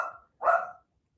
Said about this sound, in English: I don't know what he is barking at